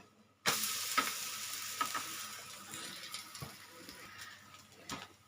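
A moong dal dosa sizzles on a hot griddle as it is flipped, with a sudden burst of frying hiss followed by a steady crackle and a few sharp scraping taps of the spatula.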